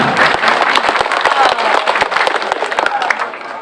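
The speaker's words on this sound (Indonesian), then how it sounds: "Tepuk tangan." An audience applauds at a school extracurricular display in Cirebon, with dense, lively clapping and crowd noise throughout, voices mixed in beneath the claps.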